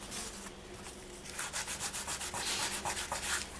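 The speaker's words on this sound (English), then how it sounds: "Okay, I've got my sanding papers here. I'm going to start with the 400 grit." Soft scratchy rubbing starts, then quick back-and-forth strokes of 400-grit sandpaper on a painted polymer clay pendant settle into a regular rhythm, close and fairly quiet, with no voices.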